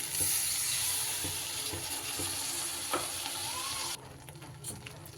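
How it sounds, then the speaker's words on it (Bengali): Poppy seed egg curry being stirred in a pan with a low sizzle and scattered scrapes, then leftover water from rinsing the mixer jar poured in, the frying noise dropping away near the end; no one speaks. "একটু সময় নেড়ে চেড়ে এবার মিক্সির বাটি ধোয়া জলটা আমি দিয়ে দিচ্ছি"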